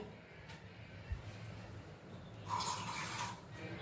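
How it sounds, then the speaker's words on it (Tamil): Water poured from a soaking bowl into a pan of Hyderabad-style chicken gravy, a close splashing pour that swells partway through and runs for about a second and a half over quiet kitchen background. "இந்த சிக்கன் வேகிறதுக்கு ஒரு 1/4 டம்ளர் தண்ணி."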